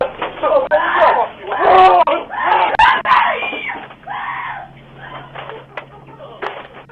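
Screams from a short film, loud and shrill, come in several anguished bursts that overlap and wail, then fade into quieter whimpering cries.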